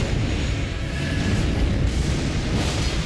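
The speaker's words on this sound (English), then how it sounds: "Explosion." Explosion in the video game Elden Ring during a battle in Dragonbarrow, a dense rumbling boom that sustains at high level across the whole stretch with crackling debris on top.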